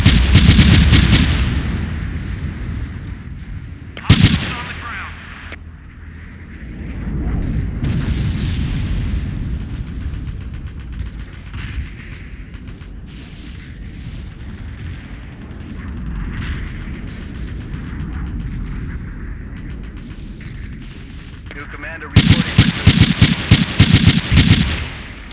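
PKM machine gun fire in a combat setting, loud repeated blasts and booming reports through a dense battle din, with a sharp burst near the start and a rapid, clattering string of shots at the end.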